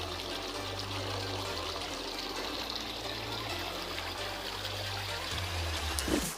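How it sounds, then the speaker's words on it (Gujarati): Irrigation water flows and gurgles steadily on a farm, a continuous rushing stream with a low engine-like hum underneath and no talking. "પાણી વાળી રહ્યા છે"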